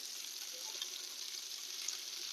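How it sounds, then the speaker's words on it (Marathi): Oil is poured around stuffed bitter gourds on a griddle, giving a soft, continuous sizzle and frying hiss that is faint and steady throughout, with no voices. "थोडं आपण याला कडेने आता इथं तेल सोडूया"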